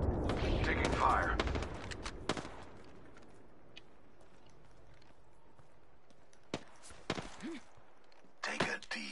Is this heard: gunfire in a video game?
yes